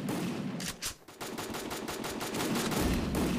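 Rapid bursts of automatic gunfire in the mobile battle game Free Fire, loud and sustained throughout with a brief lull near the middle before shooting resumes.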